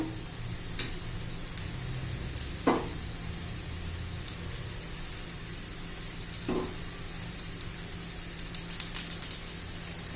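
Jowar flour vadas topped with sesame seeds fry in oil on a pan, a soft, even sizzle with a couple of light utensil taps, heard alone without talk.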